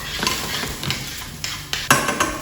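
Garlic and chili flakes in a pan, with a utensil scraping and stirring, producing irregular knocks and clinks over a soft background sizzle, close by.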